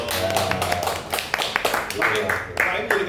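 An audience claps at a gathering, scattered irregular claps of varying loudness for a few seconds, mixed with people talking throughout.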